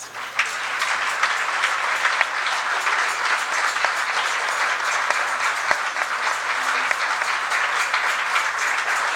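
A crowd at a religious gathering applauding steadily and loudly throughout, a dense wash of clapping with no pauses.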